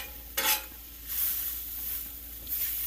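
Sausage, peppers and onions sizzle on a Blackstone griddle, a steady close hiss with a few sharper bursts as the food is stirred, heard alone without talk.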